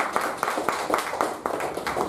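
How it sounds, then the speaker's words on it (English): A small club audience at a Toastmasters-style meeting gives a round of applause, steady clapping with repeated sharp hand strikes carrying on through the whole stretch at moderate loudness. "a big round of applause to Timer"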